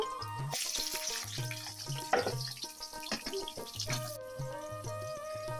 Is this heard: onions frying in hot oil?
yes